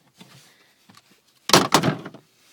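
A car door on a 1991 Honda Accord EX wagon with broken hinges is moved, giving a few faint knocks and then a louder double clunk and rattle up close, with no talking.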